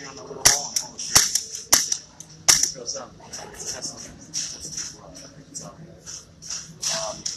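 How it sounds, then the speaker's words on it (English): Clicks and sharp snaps from an M320 A1 grenade launcher as its trigger is pulled and the firing pin falls, a few crisp near transients with handling noise and talk in the background. "put your finger on the little hole and pull the trigger"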